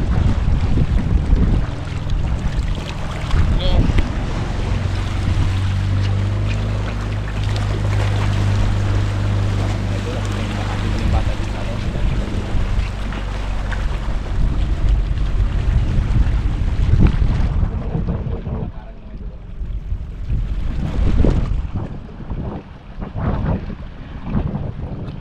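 A boat motors past on open water, a steady low rumble with wind buffeting the microphone and waves washing around it. The engine noise thins near the end as the boat moves away.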